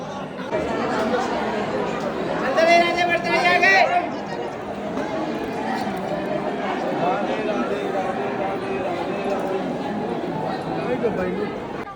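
A dense crowd chatters and murmurs continuously on the marble steps of Prem Mandir temple in Vrindavan, a steady wash of many voices with a brief louder burst of nearby chatter partway through.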